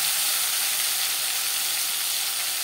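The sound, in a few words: spice paste of onion, garlic, tomato, ginger, chilli frying in oil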